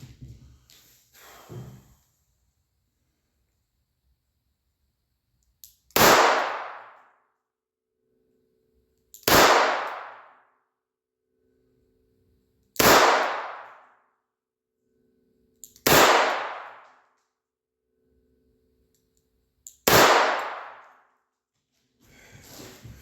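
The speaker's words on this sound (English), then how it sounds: "now we'll go to 5 shots from the Smith & Wesson" Five loud gunshots from a Smith & Wesson 642 revolver ring out one at a time, evenly spaced about three to four seconds apart, each a sharp crack with a decaying tail, followed by a softer sound at the end.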